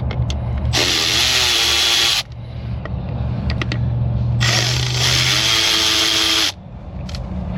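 Two bursts from a power driver with an extension backing out Torx fasteners on a car in a repair shop, each whir lasting one to two seconds, loud and close, with a steady low hum between.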